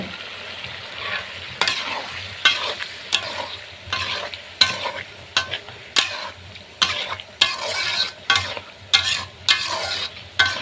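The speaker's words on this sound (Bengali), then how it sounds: "তো মাংসগুলো প্রায় আধা ঘন্টার মতো কষিয়ে নেব" Meat with spices stir-fried in a pan, sizzling steadily with a dozen or so sharp scraping strokes of a spatula at an irregular rhythm, close and moderately loud.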